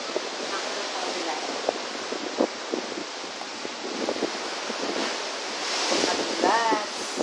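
Strong sea waves surge and wash into Thunder Cave at Cape D'Aguilar Marine Reserve, a continuous roaring churn with buffeting wind noise, rising toward the end.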